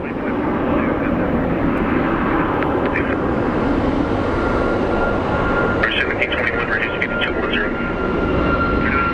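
An American Airlines airliner in TWA special livery at Phoenix Sky Harbor International Airport gives a loud, steady engine roar that fills the whole stretch, with a voice faintly underneath.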